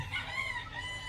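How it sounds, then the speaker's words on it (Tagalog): A rooster crows on a farm, a sustained call close by over a low background rumble, filling the whole short moment without any talk. "isa manok to eh"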